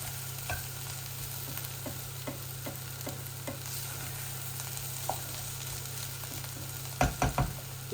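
Bitter gourd (karela) stir-fries in a pan with a steady close sizzle, faint scraping stirs through it and a few louder clatters near the end.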